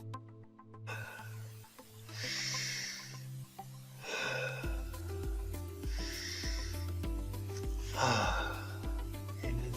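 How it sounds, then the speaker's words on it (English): Three slow, deep breaths drawn in and released, each a long airy inhale and exhale, close and soft over a calm background music bed. "Now grab your wrist and take 3 deep breaths."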